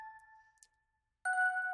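Music box melody run through a Crystallizer delay effect in a music production session, soft sustained chime tones fading out, a brief gap, then a brighter shimmering note returning, quiet and alone.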